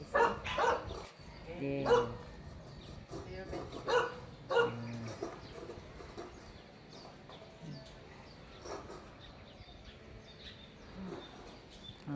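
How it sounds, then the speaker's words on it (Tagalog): A neighbour's dog in the Philippines barks angrily in several loud bursts early on, with a person briefly talking and quieter outdoor background afterwards. "Yung dog nung kapitbahay nagagalit."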